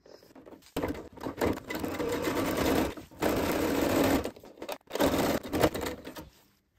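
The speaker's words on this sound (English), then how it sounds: "we're now going to stitch down this hem at the bottom of the skirt." Sewing machine stitching the hem along the bottom of a fabric Christmas tree skirt, running in steady close bursts of rapid mechanical whirring with short pauses between, no talk.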